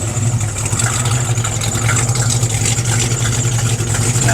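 A hot rod 1935 Plymouth Business Coupe with a Competition Cams camshaft idles close by in a steady, loud, low rumble with no voices over it.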